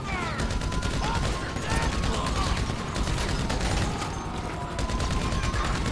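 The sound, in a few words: gunfire in GTA 5 video game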